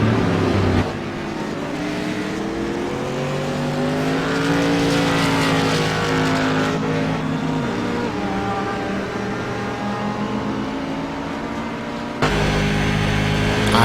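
SK Modified race cars race on an oval, engines droning and rising in pitch as cars roar past, loud and continuous, with a sudden shift as another car passes close near the end.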